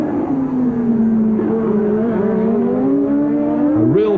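A 1983 Formula 1 race in Detroit with a Renault, Brabham and Ferrari dueling: loud, continuous high-revving engine wail that holds steady and climbs near the end, close and dominant with no talk.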